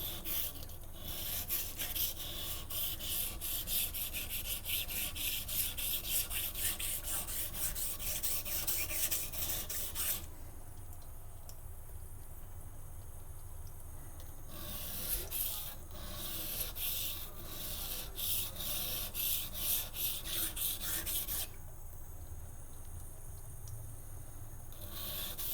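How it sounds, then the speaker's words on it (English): A knife edge is ground against a waterstone in steady back-and-forth strokes, a close gritty rasping that pauses twice briefly before resuming. "I want to make sure that it's grinding relatively even all the way up"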